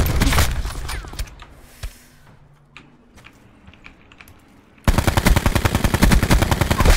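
Automatic gunfire in Call of Duty: Black Ops 4 Blackout: loud rapid bursts open the clip, give way to quieter scattered shots and ambient battlefield noise, then a sustained loud rattle of continuous fire takes over at the end.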